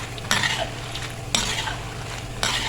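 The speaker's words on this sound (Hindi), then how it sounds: "मैं इस तरह मुसलसल चम्मच हिलाती रहूँगी" Gram flour pakoras fry in hot oil with a continuous sizzle, while a spoon scrapes and stirs through the pan in three distinct sweeps close up.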